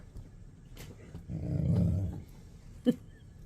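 A dog growls in a low, rumbling burst lasting about a second, with a brief sharp yip or bark right after; no one speaks.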